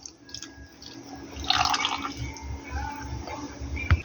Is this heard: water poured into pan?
yes